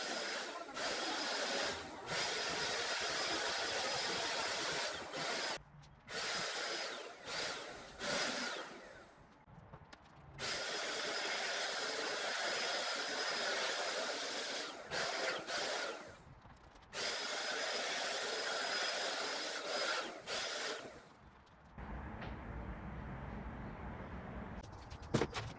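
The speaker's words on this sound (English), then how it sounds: "hitting it with 3 coats of paint with my paint sprayer" A paint sprayer hisses steadily in long bursts as coats of paint go onto corner cabinets, each spray pass separated by short gaps of quiet, loud and close throughout.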